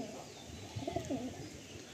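A male Kalanka Madrasi pigeon coos nearby, a soft throaty burst in the middle rising over a low background murmur, faint and brief.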